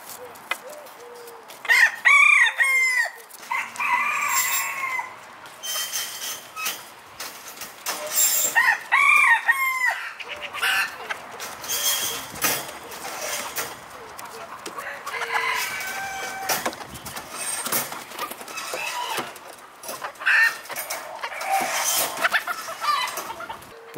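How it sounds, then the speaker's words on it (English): Yokohama bantam chickens cluck repeatedly and a rooster crows loudly nearby, with several overlapping calls and rustling farmyard noise throughout. "Now let's check out the hens"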